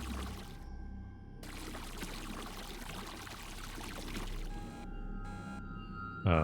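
Water flushes out a colon as a faint pouring, gushing stream that stops and starts in short bursts, with a brief sharp knock at the end.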